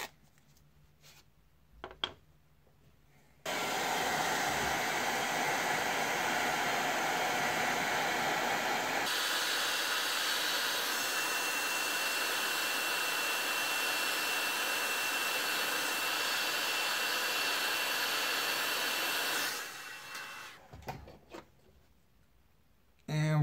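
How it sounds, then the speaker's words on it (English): Heat gun blowing hot air, a steady loud broadband whoosh that switches on abruptly, holds for about sixteen seconds with a slight shift partway, then cuts off, with faint handling noises before and after. "I'm going to use a heat gun"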